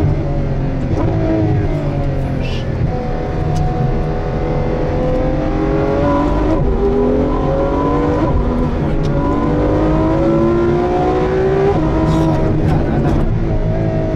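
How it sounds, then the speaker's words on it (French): A Ferrari F12 Berlinetta's 740 hp V12 roars loudly and continuously, its pitch climbing and falling through gear changes, with a raspy exhaust note throughout. "Là je ferme les fenêtres, écoutez le moteur."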